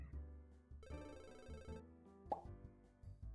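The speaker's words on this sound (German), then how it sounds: "Klingelt schon wieder ein Telefon und ich habe keins." A telephone rings in the management game MAD Games Tycoon, a short electronic ring rising over steady game music, followed by a soft pop-like blip.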